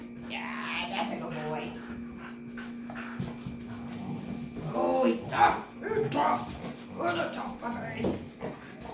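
A Border Collie puppy during tug play at a puppy training class, its barks, yips and panting mixed in and partly masked by a trainer talking throughout, with the loudest bursts near the middle.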